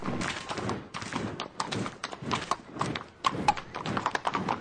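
Horses walk along a route, their hooves clip-clopping in a steady, overlapping rhythm of close, sharp knocks that carry on throughout without talk.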